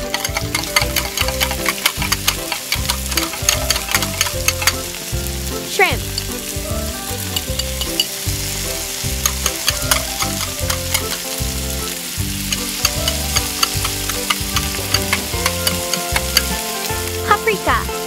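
Shrimp and onion fry in hot oil, a steady close sizzle with frequent crackles and stirring scrapes running throughout without pause, as a spicy chilli crab dish gets under way.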